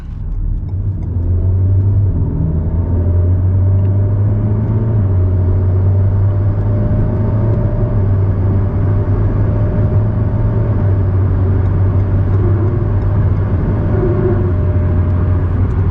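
A 2019 Alpine A110 S sports car cruises along, its engine giving a steady low droning rumble with road noise heard from inside the cabin, continuous and close.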